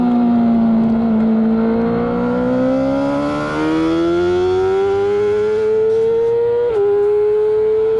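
Motorcycle engine on a track day with changed gearing, a loud, close, sustained engine tone rising steadily in pitch as it revs up, with a brief dip near the end, and no voice.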